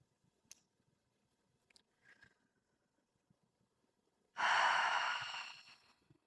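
A single deep breath during a beginner yoga pose for back pain: a soft, breathy exhale of about two seconds that swells quickly and fades slowly, close and alone after near silence.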